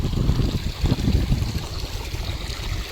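Water rushes and burbles in a continuous, fairly loud flow nearby, a steady stream with no voices.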